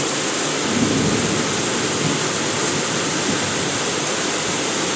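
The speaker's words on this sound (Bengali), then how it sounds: "আর এখানে কি জোরে বৃষ্টি হচ্ছে" Heavy early-winter downpour as heard from inside a shop: a loud, steady broadband roar of rain with a low rumble underneath, continuous for the whole stretch with no talking.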